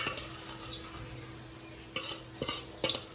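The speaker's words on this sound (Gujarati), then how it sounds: "સરસ ચમચો મિક્સ કરી દેવાનું" A metal spoon stirs dabeli masala in a pan, quiet scraping at first, then several sharp clinks against the vessel near the end.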